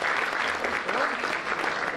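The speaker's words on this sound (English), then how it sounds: "A big round of applause" An audience gives a round of applause for Paytm founder Vijay Shankar Sharma, dense continuous clapping that swells and holds across the whole moment, with a faint voice underneath.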